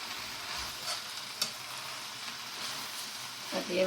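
Koththu roti is stir-fried and mixed on a hot griddle, producing a quiet, steady sizzle broken by soft scraping and tossing sounds, louder near the end.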